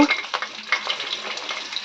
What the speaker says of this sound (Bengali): ভাজা হয়ে গেছে এবার তুলে নেব